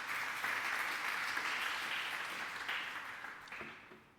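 Church congregation applauding and acclaiming the Lord during a sermon, a broad sustained roar of clapping and cheering that fades toward the end.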